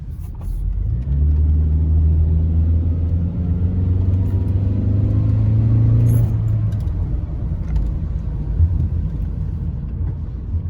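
A high-mileage 2011 Toyota Camry with 370,000 miles accelerates from inside the cabin, its engine rumble swelling steadily for several seconds, then dropping back to a lower, steady road drone.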